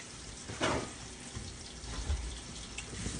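Asparagus spears are rinsed under running tap water in a kitchen sink, a soft continuous splashing hiss with a few sharper splatters as the stalks are moved under the stream.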